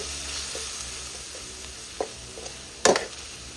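Coconut milk sizzles in hot oil with chili paste in a wok for a Thai spicy stir-fried wild boar dish, a steady close frying hiss broken by a couple of sharp spatula scrapes and clinks.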